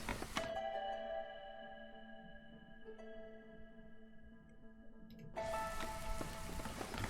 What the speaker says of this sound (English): Okay, now we're in the drizzle.